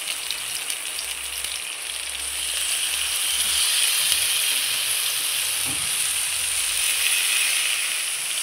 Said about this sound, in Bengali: এটা আস্তে আস্তে ততক্ষণ ভাজা হোক, ততক্ষণে আমি ঢাকা চাপা দিয়ে দেবো।